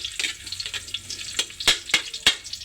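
Ginger sizzles in a hot pan as the base for a mussel dish, a soft steady frying hiss broken by sharp crackling pops that come more often near the end.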